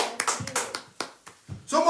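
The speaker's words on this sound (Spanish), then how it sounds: "Denles aplauso a Jesús, Él se lo merece." Scattered hand claps ring out in a church service, a handful of sharp, separate claps rather than a full, continuous applause.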